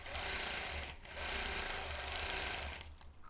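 A vintage sewing machine quilts layered fabric in a close, loud, continuous whir, broken by one brief pause, before the motor stops shortly before the end.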